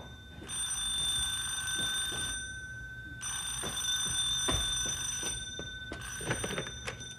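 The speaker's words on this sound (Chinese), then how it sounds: "幸好才出门就听到电话响" A home telephone rings in two long electronic bursts separated by a short pause, clear and moderately close, with a few soft knocks toward the end.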